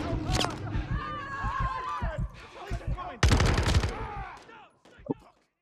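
A flashbang grenade goes off in Modern Warfare III as one sharp, loud broadband blast midway through, set among earlier bursts of gunfire-like game effects, with a voice speaking over parts of it.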